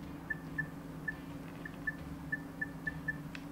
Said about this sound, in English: Listen to the sound of scrolling between menus.